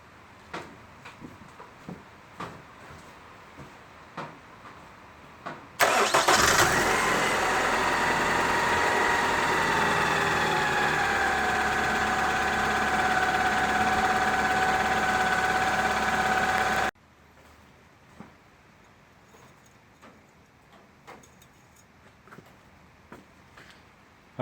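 A 2000 Toyota Camry with the 2.2 engine cranks and catches, then settles into a steady, loud idle that holds for about eleven seconds before cutting off abruptly, with faint clicks and handling noises before and after.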